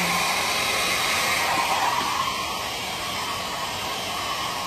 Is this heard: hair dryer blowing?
yes